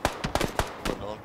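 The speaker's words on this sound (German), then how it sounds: "Da ging ein paar Schüsse auf mich." Gunfire in PlayerUnknown's Battlegrounds, a quick string of about half a dozen sharp shots cracking in an uneven rhythm, fairly close, with a voice speaking alongside.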